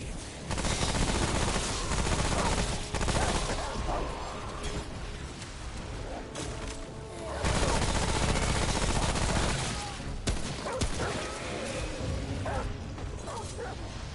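Sustained, dense gunfire in the shooter game Remnant: From the Ashes, loud continuous bursts of shots layered with game music and mechanical clatter, with a short lull midway.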